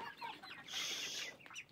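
A hen on a farmyard with ducks clucks in a short, faint burst of scratchy calls, brief and quiet with no voices.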